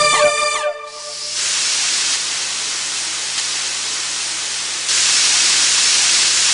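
Steam hisses steadily from a kitchen pressure cooker whose weight has been removed, a loud continuous rush that starts after a brief moment of other sound and swells slightly louder near the end.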